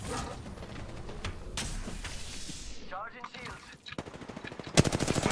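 Rapid automatic gunfire from the battle royale game Apex Legends on the World's Edge map, loud bursts of sharp shots with mechanical clacks and a dense final volley, while players talk over the action.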